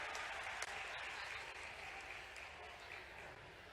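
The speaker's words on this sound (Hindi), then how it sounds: "जोरदार तालियां हम सबकी ओर से होना चाहिए।" Dense, sustained applause from a large audience at a formal ceremony in Ujjain, the 66th All India Kalidas Festival, greeting India's Vice President; steady crowd clapping fills the whole stretch with faint voices mixed in.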